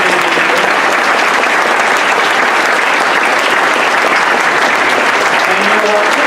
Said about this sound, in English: give everyone here a round of applause.